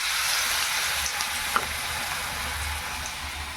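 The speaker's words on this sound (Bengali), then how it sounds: "এই একটা একটা করে তেলে ছেড়ে দিচ্ছি।" Jute leaf fritters frying in hot oil in a pan, a loud, steady close-up sizzle throughout with a faint tap near the middle.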